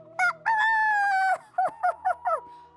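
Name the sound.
rooster crowing in a radio skit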